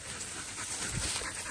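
Hunting dog panting fast and breathily at close range during a boar hunt, a brief stretch of quick, rhythmic huffs with no talking.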